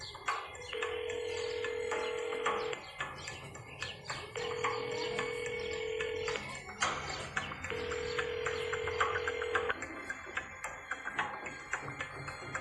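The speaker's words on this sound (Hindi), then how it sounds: "उसने डरते डरते मन्नू को कॉल किया।" A phone call rings out unanswered: a steady ringback tone repeats in three long, evenly spaced bursts with pauses between them, heard over a faint background.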